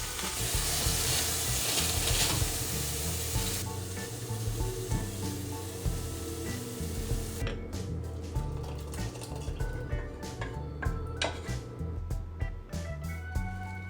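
Ramen noodles go into a hot pot and are stirred, a loud continuous sizzle and bubbling giving way to quieter scraping, clinking stirs with scattered clicks near the end.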